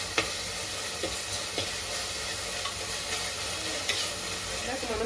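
Pumpkin curry fries in a pan, sizzling steadily while a spoon stirs it with occasional scraping clicks against the pan, close and continuous with no talk.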